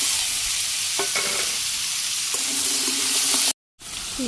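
Vegetables hitting hot oil with fenugreek and cumin in a pan over a clay stove, a loud, continuous close sizzle with a few scraping stirs, briefly cutting out near the end.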